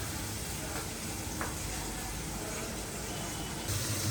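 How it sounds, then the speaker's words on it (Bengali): Ground onion, garlic, ginger, chili, coriander, turmeric and salt sizzle and fry steadily in a pan. The hiss is close and even, with a faint scrape of stirring and a brief surge near the end. "সব মশলা দিয়ে কষিয়ে নিতে হবে এখন"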